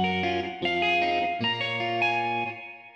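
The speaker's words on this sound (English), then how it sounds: "I'm going to start with this reverb and just add some bright reverb" A guitar melody played in FL Studio with a bright reverb effect, a few plucked notes ringing out in a clear phrase with a shimmering tail that fades at the end, alone with no voice.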